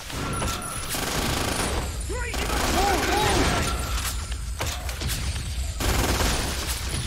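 Bursts of automatic gunfire from the video game 50 Cent: Blood on the Sand, loud and continuous over several seconds with sharp cracks and layered game effects, with brief gaps between volleys.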